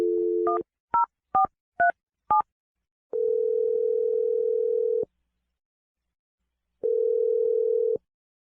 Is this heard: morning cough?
no